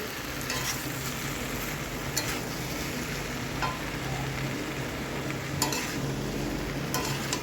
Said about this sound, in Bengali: ভালো করে নেড়ে নেব আলু আর কুমড়ো বেশ ভাজা ভাজা হয়ে গেছে তেলের মধ্যে